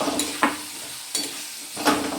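Cut potatoes stirred into softened tomato and oil for egg and potato curry, frying in a pan with a steady low sizzle and three short scraping bursts from stirring, close and clear with no talk.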